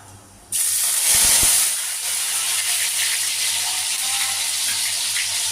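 Onion paste dropped into hot oil with black cumin seeds, a sudden loud hiss that bursts in after half a second and settles into a steady close sizzle, no voices.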